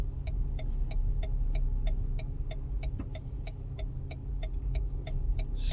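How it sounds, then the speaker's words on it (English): A car reverse parking, with a steady low engine idle under a regular ticking, likely the indicator clicking in an even rhythm throughout. "we are going to just park the car as normal."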